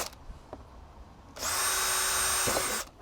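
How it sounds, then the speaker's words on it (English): A power drill bores into old plastic guttering: a brief quiet prelude with small knocks, then one loud whining burst of drilling about a second and a half long that stops abruptly. "So now we've got the series of holes drilled in the gutter itself."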